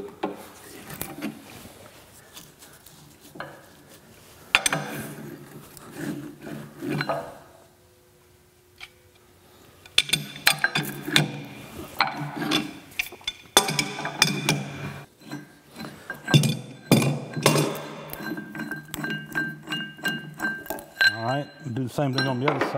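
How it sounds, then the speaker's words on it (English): An adjustable wrench works loose the spring-loaded part of a FAMCO 5C arbor press during restoration, giving bursts of metallic clinks, scrapes and rattles broken by a short quiet pause. "we'll use my adjustable wrench here"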